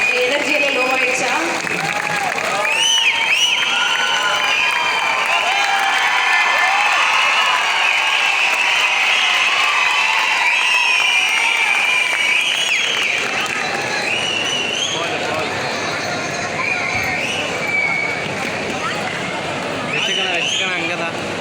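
An award-ceremony audience in Chennai gives sustained applause that thins out after a while, mixed with crowd noise and voices talking over it.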